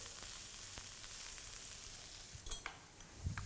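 Cabbage, beans and bell peppers stir-fried for chowmein in a hot wok on a street cart, giving a steady loud sizzle with a few scraping stirs near the end, no voices.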